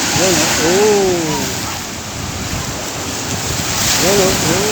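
Strong high-tide waves crash and wash onto a beach in a steady, loud roar with gusting wind, while someone talks over the surf near the start and again at the end.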